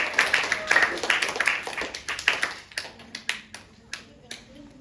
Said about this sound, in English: Clap hand for Aulianur Asahra.